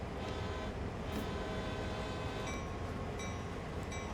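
A CSX diesel locomotive in Train Sim World 2 idles and pulls away with a steady low engine rumble and droning tones, mechanical clunks and faint squeals over the top, and no talking.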